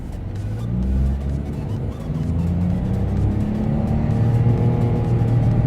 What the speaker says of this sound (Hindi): अब मैं इस गाड़ी को 1 किलोमीटर भगाऊंगा, देखूंगा कितनी स्पीड तक जाती है ये पावर बटन के बगैर